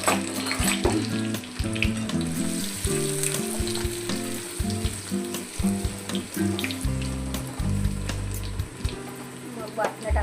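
Garlic sizzles loudly in hot oil as a tempering for a fish curry, a continuous close crackle with occasional stirring, while a voice talks over it.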